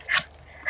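Dog giving two short, high whimpers, close by, separated by a brief pause.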